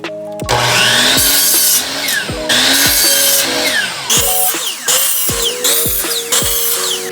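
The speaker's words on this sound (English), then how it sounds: "mark them all, and cut them on my miter saw." Miter saw slicing shelf boards for garage shelving: loud whining cuts repeat in quick succession, each spinning up and dropping off sharply, close and continuous with no voices.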